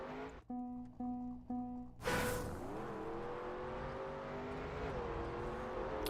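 A desert car in the Trackmania racing game gives a thin buzzing engine note after a few short tones and a sharp whoosh, its pitch rising and wavering as it speeds along, steady and moderately quiet.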